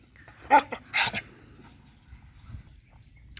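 A female hunting Laika gives two or three sharp, close barks in quick succession, followed by quieter whining and faint rustling, by her enclosure.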